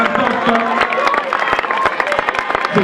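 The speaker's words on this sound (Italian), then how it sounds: "Sentiamo i primi applausi" Scattered applause and cheering from spectators lining the finish of an Italian mountain running championship race in Civezzano, a crowd clapping steadily under a commentator's voice.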